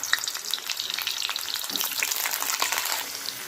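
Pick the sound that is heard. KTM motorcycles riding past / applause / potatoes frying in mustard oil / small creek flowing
potatoes frying in mustard oil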